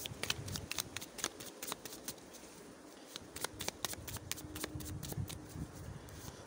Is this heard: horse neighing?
no